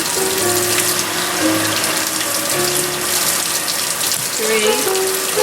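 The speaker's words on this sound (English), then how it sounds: "we're going to add our 4 cups of water" Cold tap water runs steadily into a cooking pot for Hamburger Helper made from scratch, a loud continuous gushing stream with a soft music background underneath.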